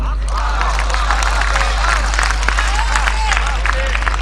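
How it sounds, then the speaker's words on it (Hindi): An audience at a mushaira in Ahmedabad breaks into applause and murmuring, a dense wash of clapping and crowd hubbub with a steady low hum underneath for a few seconds. "तो दिनकर की बात पे आपकी तालियां उठे।"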